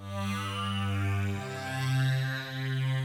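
An 80s-inspired synth preset called Millennium on the Vapor Keys plugin sustains a thick, droning chord with a rich bass note, while a slowly shifting filter sweeps the tone up and down, loud and steady with no voices.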